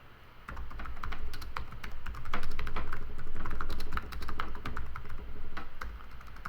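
Rapid typing on a computer keyboard while text is entered into a WordPress website page, crisp close clicks in an uneven run, with no one talking.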